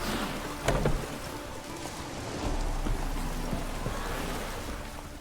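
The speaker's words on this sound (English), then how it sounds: "No use doing any work in this rain." Rain falls steadily in The Witcher 3: Wild Hunt, a broad, even wash of hiss with a few heavier splashes and thumps, close and continuous with no voices.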